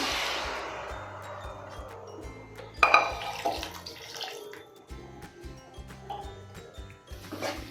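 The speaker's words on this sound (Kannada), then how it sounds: "ಇದರಲ್ಲಿ ಸ್ವಲ್ಪ ನೀರು ಹಾಕ್ಕೊಳ್ಳೋಣ." Water splashes into a hot pan of frying potatoes with a brief burst of hissing, followed by clinks of a utensil and a low background hum.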